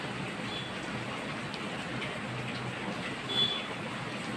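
Steady rain falling outdoors during a wet spell, a continuous even hiss of drops with no breaks, moderately quiet and alone without any voices.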